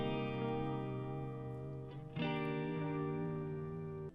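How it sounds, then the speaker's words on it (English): A Telecaster electric guitar through a JHS Panther delay rings out with a wavy delay effect, a sustained chord shifting to a new one midway, repeats trailing behind. "Now let's hear the Telecaster, and I added a Panther delay from JHS to the sound"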